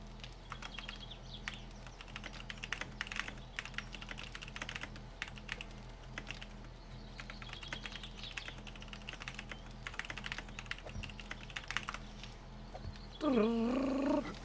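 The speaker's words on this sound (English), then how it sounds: "Typing, because he's not in Discord right now." Steady typing on a computer keyboard, a fast, irregular patter of light key clicks that continues for more than ten seconds, quiet and close, over a low background hum with a brief tonal sound at the end.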